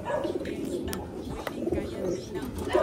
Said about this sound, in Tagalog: O, yan mga kalapatids ha. Giant birds.